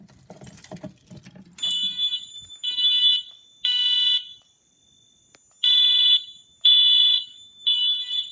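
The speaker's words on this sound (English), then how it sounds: "And I guess we can go ahead and do a key activation." A fire alarm system under test sounds loud repeated high-pitched electronic beeps in bursts of roughly a second with short gaps, after some faint key jangling and handling noise at the start.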